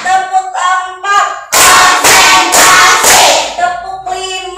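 A fifth-grade class at an Indonesian elementary school claps out a rhythmic pattern in four loud, evenly spaced bursts, with a teacher speaking before and after.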